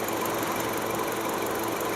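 Steady, loud engine running from a 2015 Nissan Grand Livina automatic, with a rough, snoring-like rumble throughout and no other sounds.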